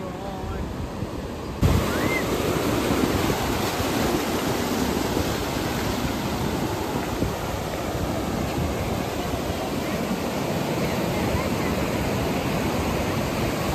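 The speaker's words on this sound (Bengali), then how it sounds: "ও ঢেউ দেখো" Sea waves crashing on Digha beach in the monsoon, a loud continuous roar of surf that swells in after a brief quieter moment and then holds steady, with no talk.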